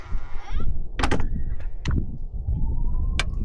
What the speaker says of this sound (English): So this does have the soft closed doors,